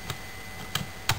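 A few sparse keystrokes on an Apple II Europlus computer keyboard, three separate clicks spread over a second against a quiet background.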